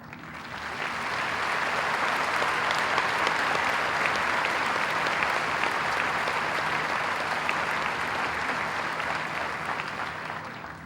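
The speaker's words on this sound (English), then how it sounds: "present the salutatorian medallion to Logan, I again would ask you to join me in honoring him with a round of applause." Sustained audience applause at a high school commencement ceremony, a steady, fairly distant wash of many hands clapping that swells in and tapers off over about ten seconds with no talk.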